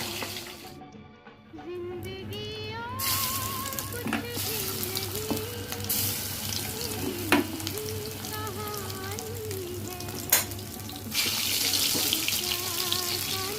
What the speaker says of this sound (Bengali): বড়াগুলো ভাজা হয়ে গেছে, তুলে নিচ্ছি।